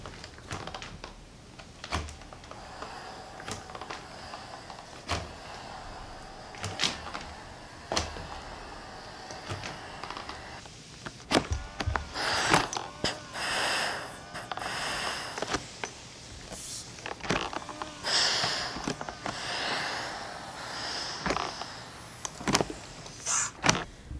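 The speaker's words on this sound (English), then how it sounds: "Okay, so I'm going to try the carpet glider because I haven't done that yet." Carpet glider attachment pushed back and forth over a living room carpet, giving repeated scraping and rubbing strokes with sharp clicks and thumps, close and moderately loud, with no talking.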